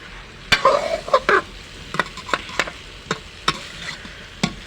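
Guava curry stirred in a pan with salt and chili, giving a soft sizzle and repeated scraping taps of the spoon against the pan in an irregular rhythm, close and clear.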